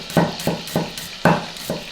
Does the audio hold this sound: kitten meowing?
no